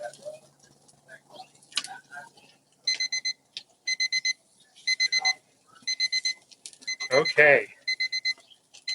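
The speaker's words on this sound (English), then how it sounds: "So the timer's about ready to go off." A cooking timer beeps in repeated quick bursts of high chirps while a prime rib smokes on a Franklin BBQ offset smoker. Someone speaks briefly, and a loud metallic clank from the smoker lid breaks in partway through.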